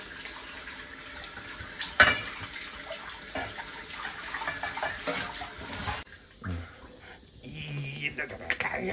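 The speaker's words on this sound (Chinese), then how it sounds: "洗个锅，我来洗干净。" A cooking pot being washed under running tap water in a home kitchen: continuous splashing water with occasional scrapes and clanks of the pot, and people talking over it.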